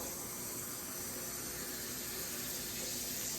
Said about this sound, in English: I'm about to go ahead and put like 4 cups, I think 4 cups of water into the pot.